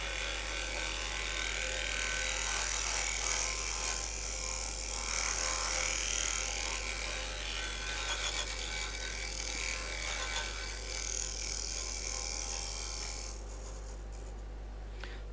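A wood lathe turns a hollow form as shavings come off, a continuous high whirring hiss with a low hum underneath, steady and close, easing slightly near the end.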